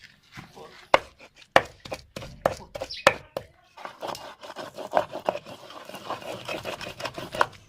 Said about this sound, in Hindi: 4 मगज़ और खसकास को हमने अच्छी तरह रगड़ा लगा दिए